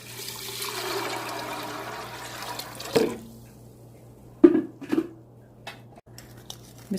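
Water pouring into a pressure cooker holding chickpeas, a soft steady rush of liquid for about three seconds, followed by a few clunks and light knocks of the pot in a quiet kitchen.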